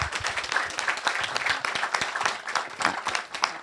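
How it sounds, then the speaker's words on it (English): A candidates forum audience gives a round of applause, fairly quiet, uneven clapping from a modest crowd with individual claps standing out. "Just one more round of applause for the whole crew of them."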